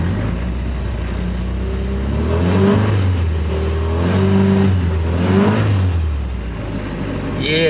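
A car fitted with a Weber carburetor drives around the block at night, its engine loud and close, the revs rising and falling in smooth waves with no pause.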